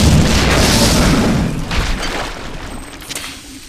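A grenade launcher round explodes in the sci-fi shooter System Shock 2, a loud booming blast with a rumbling tail that slowly fades over a few seconds, heard alone without talk.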